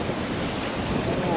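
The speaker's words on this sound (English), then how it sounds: "it's a windy day and the waves in the reservoir are huge" Large wind-driven waves wash and churn on a reservoir on a gusty day, a continuous loud roar of surf mixed with heavy wind buffeting the microphone and no clear gaps.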